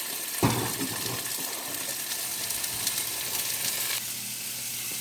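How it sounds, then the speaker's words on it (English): Pork tenderloin sears in a hot wok, a steady close sizzle with a sharp burst as the meat hits the pan, then continuous crackling frying for the rest. "So we're going to sear both sides here."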